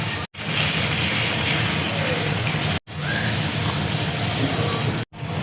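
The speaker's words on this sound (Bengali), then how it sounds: "এবার আমি জল দিয়ে দিচ্ছি।" Water poured into a pan of fish masala for a rohu fish do peyaza, a steady loud broadband rush with two brief breaks, no talking.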